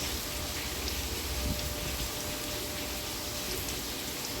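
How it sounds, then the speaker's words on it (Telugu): Monsoon rain falls in a soft, steady hiss with a faint constant tone underneath; no voices are heard. "వర్షం వస్తుందండి"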